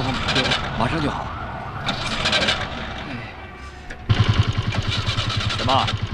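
An engine, apparently faulty, cranks and fails to catch, then a rapid, steady rhythmic turning-over takes over partway through. Excited voices talk loudly over it throughout.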